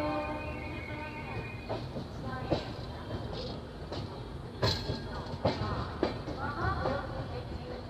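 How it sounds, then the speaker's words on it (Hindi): A passenger train rolls into Kanpur Central station, a steady low rumble with rhythmic wheel clacks and metallic squeals over the rails, while voices murmur faintly in the background. "फाइनली कानपुर सेंट्रल हमारी ट्रेन आ चुकी है अब।"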